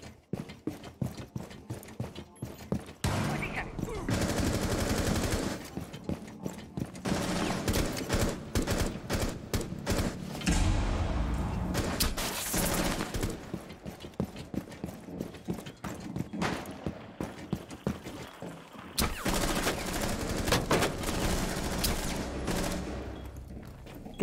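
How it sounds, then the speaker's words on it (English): Rapid bursts of automatic gunfire in Rainbow Six Siege, loud and repeated throughout in clustered volleys with short pauses between them, with little talk. "Why are you shooting me?"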